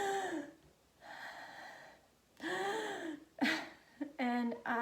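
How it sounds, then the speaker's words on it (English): A person demonstrates panicked heavy breathing, a series of ragged, gasping inhales and exhales in uneven bursts, close and fairly loud with brief pauses between. "there were a lot of times where I'd be breathing like this"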